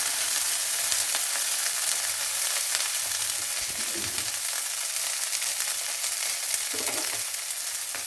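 Chopped onions and green chillies fry in a pan for a Rajasthani besan gatta curry, a steady close, broadband sizzle crackling without pause, with a couple of faint stirring bumps and no voices.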